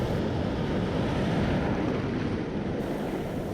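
Strong southwesterly wind and rough surf roll across the Andaman Sea near Phuket during the rainy season, a steady, loud, broadband roar with gusty wind buffeting the microphone throughout, no voices.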